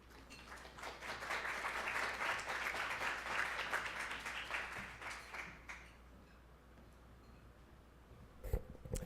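Steady applause from an audience at the Athenaeum welcoming Marianne Hill, a dense wash of clapping that holds for several seconds, then thins out and fades, with a couple of sharp knocks near the end and no talk over it.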